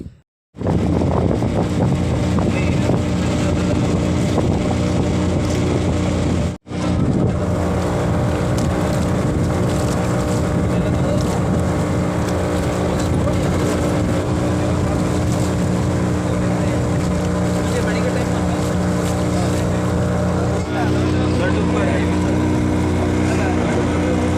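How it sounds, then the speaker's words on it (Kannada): A loud, steady motor drone with wind buffeting the microphone runs almost unbroken, briefly cutting out once, as a motorboat crosses a river, heard up close. "ದೋಣಿ ಬರುತ್ತೆ ಅಂತ ಕಾಯ್ತಾ ಇದ್ದೀವಿ"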